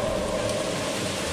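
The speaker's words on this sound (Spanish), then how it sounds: "¡Que llueve!" Steady rain falls during a caving traverse in the Matienzo system, making a dense, continuous hiss that stays at one level throughout, with no voices.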